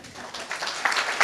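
Audience applause after a town planning session presentation, a short dense burst of clapping from a room of people, fairly close and steady.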